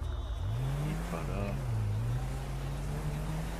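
A car driving in GTA 5 gives a continuous engine drone whose pitch dips and rises as it revs, heard up close with a voice faintly mixed in.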